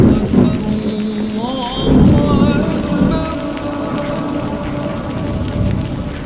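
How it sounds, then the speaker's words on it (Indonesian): Thunder rumbles low and heavy through a steady downpour of rain drumming on surfaces, with a faint voice briefly audible in the background. "Masih ada petir walaupun nggak setinggi yang tadi frekuensinya."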